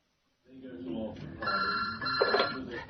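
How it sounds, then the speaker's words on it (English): An old-style telephone bell rings indoors in a stage play, a bright, trilling ring that starts after a short silence, sounds in bursts and stays close and fairly loud. "I'm not supposed to be answering this phone."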